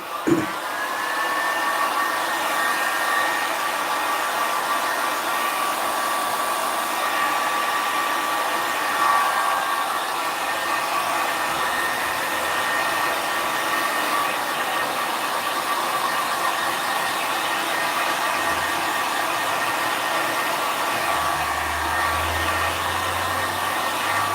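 Hair dryer blowing to dry alcohol ink on resin, a loud steady whirring roar running unbroken throughout, close by with no talk.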